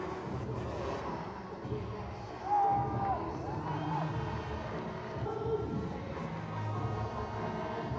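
A crowd at a motorbike stunt contest roars and cheers from a distance, a broad, fairly faint swell of voices with a louder surge partway through.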